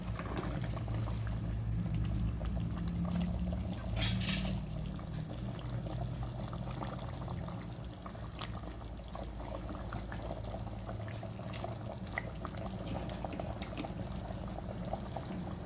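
Prepared fish slides into a pot of boiling fish curry, a steady bubbling simmer with a soft splash and liquid movement up close, no voices.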